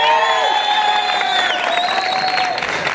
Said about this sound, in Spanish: dígalo con un aplauso.